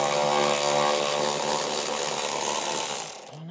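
A power tool whirs at a steady high pitch close by for a few seconds while undoing screws, then winds down and stops.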